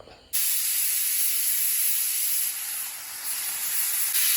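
A pressure cooker with a Bengal gram snack inside abruptly lets out its second whistle, a loud, steady hiss of escaping steam with a high whistling edge, continuing for several seconds.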